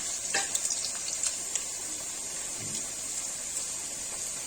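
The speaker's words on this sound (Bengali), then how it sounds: "সুন্দর করে লাল করে একটু ভেজে নেবো, তাহলে খেতে ভালো হবে।" New potatoes frying in hot oil, a steady soft sizzle throughout with a few brief clinks and stirring scrapes near the start.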